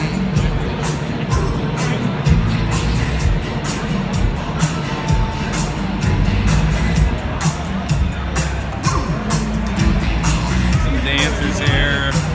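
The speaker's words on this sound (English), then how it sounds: "So he's got a pretty good crowd around here." A crowd gathered around a street performer on Fremont Street in downtown Las Vegas at night, a steady dense hubbub of many voices with occasional cheers, close and continuous throughout.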